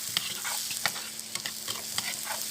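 Squash and other vegetables stirred in a pan for coconut-milk vegetable stew, a steady sizzle punctuated by irregular close scraping and clattering strokes of the utensil.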